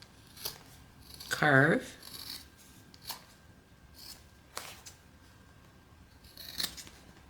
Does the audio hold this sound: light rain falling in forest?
no